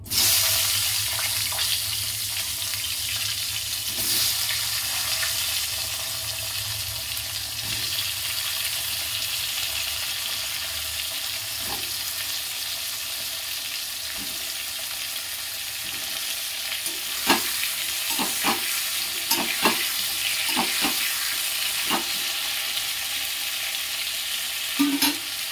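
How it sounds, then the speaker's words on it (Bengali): Potatoes for a fish curry fry in oil in a pan with a steady sizzling hiss, broken by occasional spatula taps and a cluster of sharper clicks near the end. "একটু ভাজা করে নেব আলুগুলো।"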